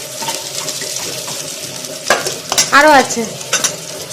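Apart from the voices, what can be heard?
potatoes frying in hot oil, being stirred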